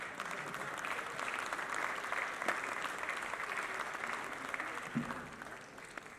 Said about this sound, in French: Le prix du jury est remporté par Ballon de sable de Younes Shaddad Qatar. Machallah, on l'applaudit